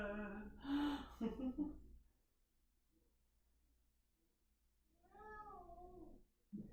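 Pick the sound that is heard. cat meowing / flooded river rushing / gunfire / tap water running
cat meowing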